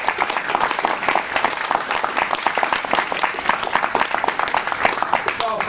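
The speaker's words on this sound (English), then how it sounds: "let's all give him a big round of applause" A live audience gives a speaker a round of applause, loud and close, with continuous overlapping hand claps filling the whole stretch and a few voices mixed in.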